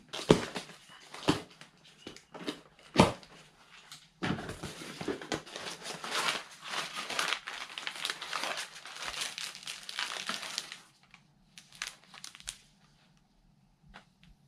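Plastic packaging for Yamaha Grizzly ATV maintenance parts, including an oil filter, is torn and crinkled open at close range, with bursts of crumpling and tearing that pause, then a long stretch of steady rustling before it quiets.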